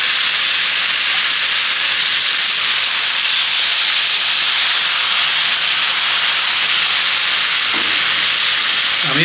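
Fish curry ingredients for a rohu curry poured all at once into a hot pan, giving a loud, dense, continuous steamy hiss that holds steady throughout.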